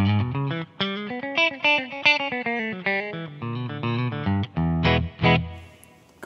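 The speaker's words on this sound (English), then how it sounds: "Now we go to the Queenback speakers, based on Queenbacks, good for crisp Marshall tones" An electric guitar played through a Simplifier MK2 on its Greenback-based speaker simulation gives a crisp, Marshall-style distorted tone: loud chords and riffs in choppy, rhythmic bursts with short gaps, played alone with no voices.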